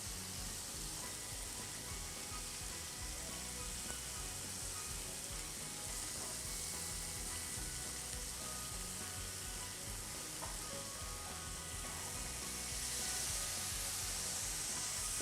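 Food sizzles steadily in a hot pan, a dense continuous crackle and hiss with no talking.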